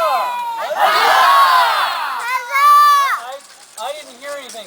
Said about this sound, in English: Now, let's hear a cheer, okay?